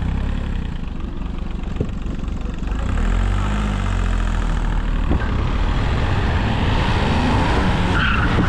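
A racing car in a video game loses traction on the third gear and skids, its engine droning loudly and continuously with screeching tyre noise throughout, no voices.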